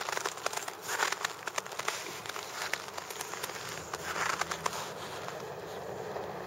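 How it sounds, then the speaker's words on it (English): Footsteps crunching on snow outdoors in an Alaskan winter, a continuous close crackling crunch with irregular louder steps and no talking. "What you're hearing is my feet on the crunchy snow here."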